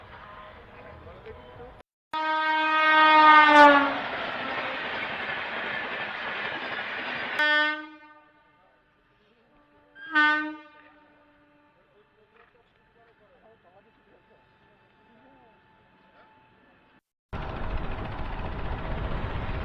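A train rumbles past a level crossing near Shantiniketan at night with a long blaring horn, then quieter rail clatter and a second horn blast, before another loud rush of passing cars.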